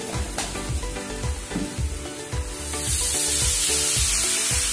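Cumin and coriander powder sizzle and fry steadily in a hot pan, with rhythmic scraping strokes of stirring and the sizzle growing louder and hissier toward the end.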